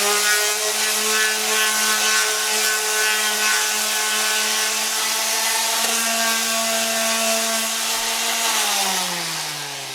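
A big Ryobi power sander working a flat spot on a Yamaha FZ600 motorcycle fairing, a steady loud motor whine with a rough rasping hiss, continuous and close, dropping slightly in pitch near the end.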